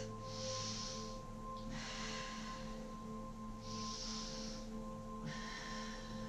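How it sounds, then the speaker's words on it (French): Slow, deep breaths during a morning stretching exercise, soft airy inhalations and exhalations recurring about four times over a steady hum, close and quiet. "3 respirations profondes dans cet exercice."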